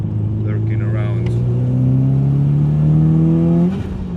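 A Subaru STI engine idles and slowly rises in pitch with a deep, droning exhaust rumble, then drops off, with faint whooshing and a voice briefly underneath.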